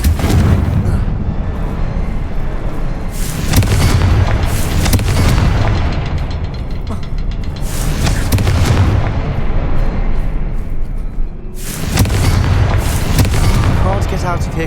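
Repeated booming blasts from a fire spell in the Hogwarts Legacy game, heavy loud explosions landing every few seconds over constant game noise, with a voice calling out between them.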